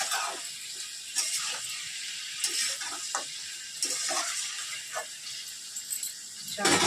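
Spice masala frying in a pan for a Bengali home-cooked tripe curry, a steady bright sizzle with crackling bursts that runs through the whole passage, close up and with no voices.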